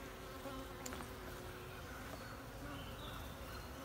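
Honey bees hum in a dense, steady buzz around an opened beehive heavy with honey and swarm cells, close and continuous with no talking.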